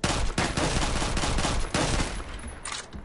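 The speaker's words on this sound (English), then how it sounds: "You need to have a trigger finger with this gun." Rapid gunfire in the online shooter Phantom Forces, loud and close, with dense bursts of shots fired in quick succession that briefly break off and then resume before fading near the end.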